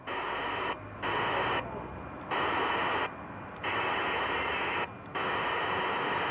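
A VHF radio receiver scanning its bands hisses with loud static that cuts out briefly several times and then resumes, forming a steady on-off pattern of noise blocks with no voices.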